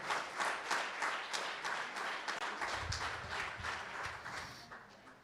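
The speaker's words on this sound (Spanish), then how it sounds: "¿Cuántos le dan un aplauso al Señor?" Church congregation applauding during a service, a steady patter of many hands clapping at moderate distance, alone with no voices over it.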